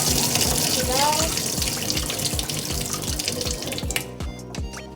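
Water runs steadily from a tap into a sink, a close, continuous splashing flow that cuts off near the end.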